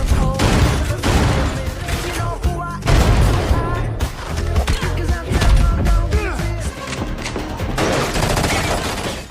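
Rapid bursts of gunfire crack back and forth in a loud, sustained exchange, with heavy booms mixed in and a voice under the noise.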